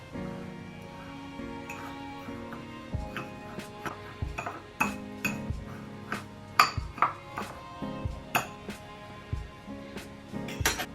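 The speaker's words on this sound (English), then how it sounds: "In a small bowl, mix 1/3 cup of white sugar, 1/3 cup of brown sugar, and 1 teaspoon of cinnamon." White sugar, brown sugar and cinnamon stirred together in a small bowl produce a run of light clinks and taps of a utensil against the dish, sparse at first and then quickening into a rhythmic beat, close and quiet, without speech.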